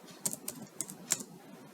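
Fingers type on a computer keyboard while writing HTML, making a handful of light, close keystrokes in an uneven rhythm over a quiet background.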